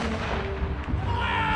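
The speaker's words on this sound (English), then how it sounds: "He lined up his cannon here on Cromwell Mount and he began to bombard the town walls." Cannon artillery fire during a 17th-century siege, guns lined up on a hillside bombarding the town walls; a dense, loud, continuous rumble of booming blasts with no clear gaps.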